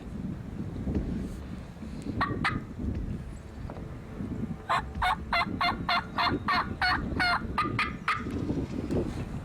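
A wild turkey gobbler gobbles in repeated rapid bursts, loud and fairly close, one short call early then a long rattling run, over steady wind noise outdoors.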